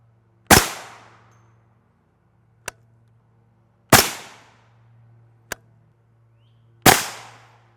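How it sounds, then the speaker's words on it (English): Two M193 rifle rounds strike armor plate, each a loud, sharp crack with a short decaying ring, plus a third similar shot, spaced a few seconds apart over a steady low hum, with faint clicks between. "I want to stack 2 shots on top of each other just to see what it will do"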